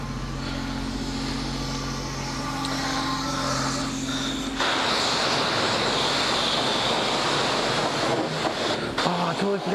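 Water rinses a motorcycle during a wash, first as a broad hiss over a steady hum, then turning louder and more splashy as the spray hits the bike for several seconds.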